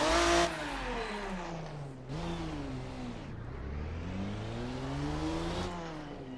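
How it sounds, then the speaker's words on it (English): The Ferruccio 57 V12 in a racing sim at low speed, gearbox and differential whine rising and falling with engine revs in smooth continuous sweeps, steady and fairly loud with no talk. "Here's some of the low speed sound effects as well. Nice whine from the gearbox and the differential."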